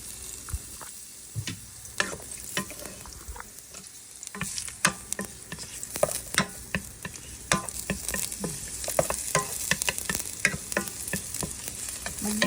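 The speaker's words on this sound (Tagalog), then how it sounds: "Gisa tayo ng bawang." Garlic sautéing in a pan for a pork chop dish: steady frying sizzle with frequent sharp crackles and pops, plus occasional stirring scrapes, close and moderately loud, with no voices.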